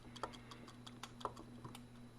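A pig-shaped kitchen timer ticks steadily and faintly close by, its soft regular clicks running under a low steady hum in a kitchen.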